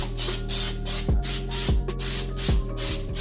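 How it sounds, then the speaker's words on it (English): Cooking spray hissing onto turkey during meal prep, a run of short, close, loud bursts in a quick, even rhythm over steady background noise, with no talking. "we're gonna spray the top with some cooking spray"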